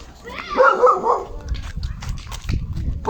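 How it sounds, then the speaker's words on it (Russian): A dog outdoors gives a few barks and yips at close-to-moderate range, with light background noise and movement around them. "Там пес."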